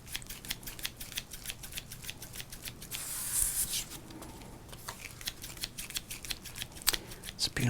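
Scissors snipping through 1987 Topps baseball cards up close, a steady run of crisp clicking cuts with a brief louder swish of handling partway through and no speech.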